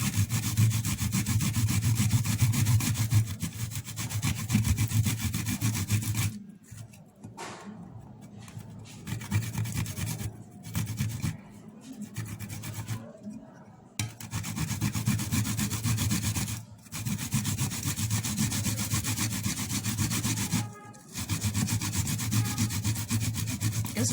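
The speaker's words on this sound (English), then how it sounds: "Make sure you grate your garlic very well" Garlic cloves rubbed against a hand grater, a close rasping scrape in long continuous strokes with several brief pauses between passes, no voices.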